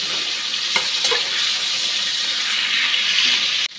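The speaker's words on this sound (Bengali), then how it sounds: "ডিমটা ভাজতে দিয়ে দিই।" An egg frying in a pan used for a cauliflower and potato curry, a steady close sizzle with a few sharp crackles early on, ending in an abrupt cut.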